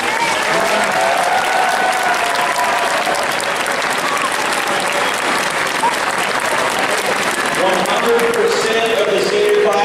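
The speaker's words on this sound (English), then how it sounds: "let's just go ahead and start with a round of applause for the seniors" A crowd at Harding Charter Prep's 2014 Senior Signing Day gives the graduating seniors a round of applause, loud, dense clapping sustained for about ten seconds.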